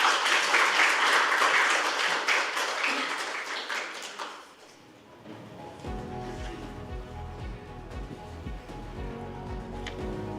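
Crowd applause at a construction-management awards ceremony in a hall, loud sustained clapping that fades after about five seconds into quieter room tone with a low hum.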